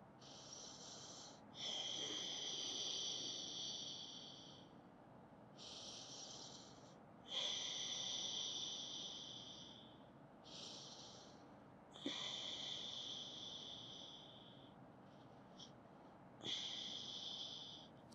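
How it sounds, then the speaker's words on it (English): Deep, slow breaths held during a yoga pose for period pain relief, each a broad airy whoosh of inhale and exhale repeating every few seconds, close and quiet with no talking. "Breathe 5 deep breaths."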